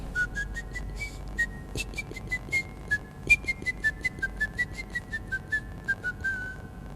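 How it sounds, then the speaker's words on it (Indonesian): A single person whistles a flowing melody with rising and falling notes, steady and fairly close, with no talking and a low hum in the background. "Suaranya dari siulan saya."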